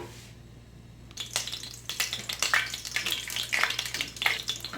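A tablespoon of oil warms in a frying pan over a lit stove, a faint hiss after a near-silent start that rises into a steady sizzle with small clinks and crackles.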